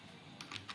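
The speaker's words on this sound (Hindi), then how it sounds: "देखिए यहाँ पे जिसे हमने दिया दीपक पाल, टाइप करिए शेषनाथ पाल।" Three or four quick, faint keystrokes on a computer keyboard during data entry in MS Word, soft clicks spaced unevenly over low background hiss.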